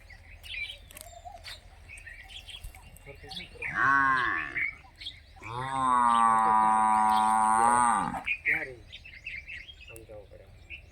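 A cow moos twice nearby in a Rajasthan village, a shorter call followed by a long drawn-out one, while birds chirp faintly in the background.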